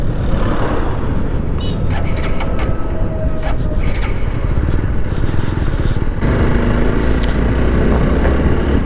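A motorcycle engine runs steadily on a highway after being switched to reserve fuel: a loud, continuous rumble with road and wind noise and no break in power.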